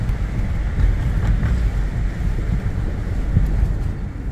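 Strong wind buffets the microphone in a constant low roar, with traffic-like rumble beneath it and no speech.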